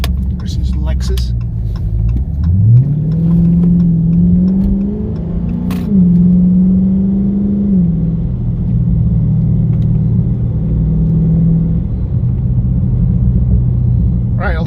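A Lexus IS F engine revs up and holds a steady rising growl, loud and close, settling into a rumbling idle with faint voices around.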